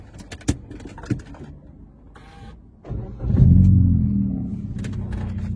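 A car with a full system exhaust is started from cold: a few clicks and clunks first, then the engine catches with a rising, bassy rumble that settles into a steady, deep idle close by.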